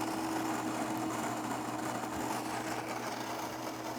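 A coffee machine grinding beans, a steady close whirring buzz with a rough, even texture that holds at one level throughout.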